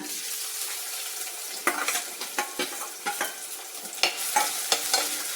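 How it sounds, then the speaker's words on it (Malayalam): Ginger and garlic sizzle in hot oil in a pan as the base for a fish curry, a steady frying hiss broken by repeated sharp stirring scrapes and clinks. "ഇഞ്ചിയും വെളുത്തുള്ളിയും കൂടെ അങ്ങോട്ടിടാം."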